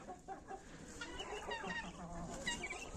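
Hens cluck softly and intermittently nearby, a quiet, gentle murmur of farmyard chatter.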